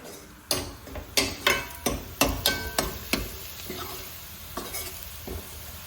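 A tadka tempering for sarson da saag sizzles in a pan while a spoon strikes and scrapes it in a quick series of sharp knocks, then settles into a softer sizzle.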